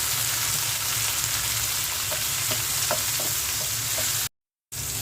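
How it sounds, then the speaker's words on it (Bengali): Onion, garlic and dried chili fry in hot oil for a dried-shrimp mash, a steady close sizzle with light stirring clicks, cutting out briefly near the end. "তাই পেঁয়াজ, রসুন আর শুকনো মরিচ ভেজে নিচ্ছি"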